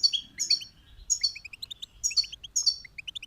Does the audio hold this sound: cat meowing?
no